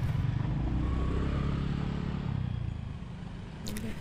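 Motorcycles roll past on a narrow renovated bridge in Malang, their engines a low rumbling drone close by that gradually fades, with a faint rattle near the end.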